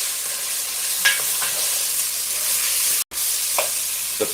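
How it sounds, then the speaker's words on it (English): Potatoes frying in a pan, a continuous bright hissing sizzle with a few faint scrapes of stirring, briefly cut to silence once midway, no voices. "The potatoes have fried."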